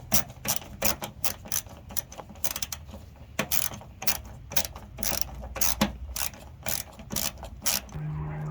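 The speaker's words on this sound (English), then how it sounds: "literally just screw them all the way in" A hand tool ratchets rapidly as screws are driven into a Dodge Challenger rocker panel, giving bursts of close, loud clicking that stop and start with short pauses between runs.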